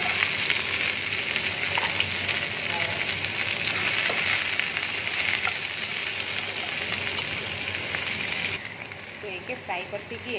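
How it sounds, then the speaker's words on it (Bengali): Okra pieces fry in hot oil in a pan, giving a loud, continuous close sizzle with small crackles and occasional stirring. "তো এখন এর মধ্যে আমি ভিন্ডিগুলো ফ্রাই করে নিচ্ছি।"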